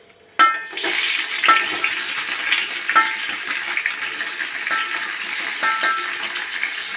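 Onions sizzle loudly in hot oil with whole cloves, cardamom and peppercorns, a steady broadband hiss punctuated by a few scraping stirs, close and with no voices.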